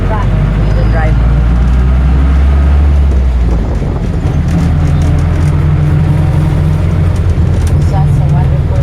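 Jeepney engine droning loud and steady during a ride through Davao City, with road noise and passing traffic around it and voices talking now and then over the rumble.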